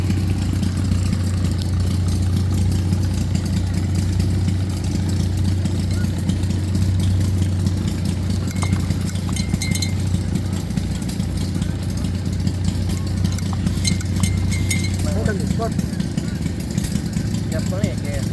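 A John Deere hit-and-miss tabletop engine running steadily close by, a continuous low chugging throb that carries on throughout, with faint clinks and background noise alongside.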